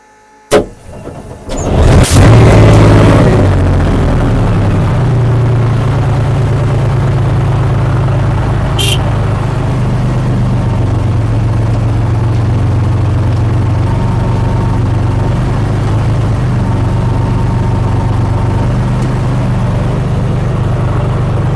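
A BMP infantry fighting vehicle's engine cranks with a whine, catches and settles into a loud, steady low diesel idle that runs on, with a short sharp metallic sound partway through.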